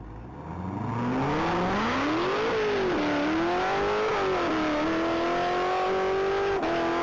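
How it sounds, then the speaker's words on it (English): 2017 Chevrolet Corvette Grand Sport on a top-speed mile run, engine roaring loud and close as it pulls hard through rising revs, with brief dips at each gear change and no talk. "piloted by Kevin Smith, and that's a 2017 Chevrolet Corvette Grand Sport."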